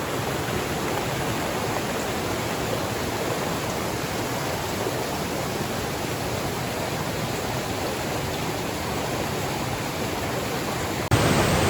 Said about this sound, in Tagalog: Pang-7 river crossing